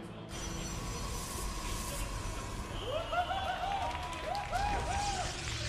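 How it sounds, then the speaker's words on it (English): A Korean crowd at a live StarCraft esports match in Seoul roars in a sustained, dense cheer that swells midway, with a continuous broadband wash of voices and scattered whistling tones over the hall. "Big cheer coming out from the Korean crowd"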